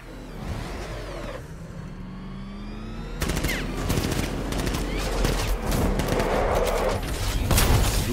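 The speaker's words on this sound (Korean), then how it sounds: "누가 나한테 총 쏴? 누가?" Gunfire erupts in Batman: Arkham Knight, bursts of shots and rapid fusillade crackling over vehicle rumble and game effects, growing denser and louder in the second half with occasional heavy booms.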